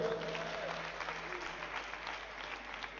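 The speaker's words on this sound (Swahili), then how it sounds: "Tumpigie bishop makofi." A church congregation claps for the bishop after a sermon, a steady wash of applause from a large room that sounds slightly distant and muffled.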